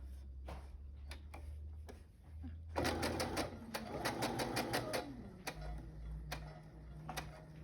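A sewing machine stitches a small piece of fabric in quick bursts of rapid mechanical ticking, separated by brief pauses and isolated clicks over a low motor hum, close and fairly quiet.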